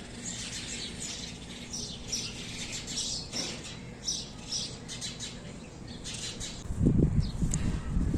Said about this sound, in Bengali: পাখির কিচিরমিচির শব্দ অসাধারণ